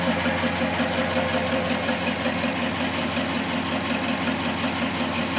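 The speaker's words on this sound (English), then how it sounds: "Starts up. Runs great. Has the dual stainless exhaust, which sounds really cool." A car engine with dual stainless exhaust idles steadily and loudly, a deep continuous rumble with a slight rhythmic throb and no voices.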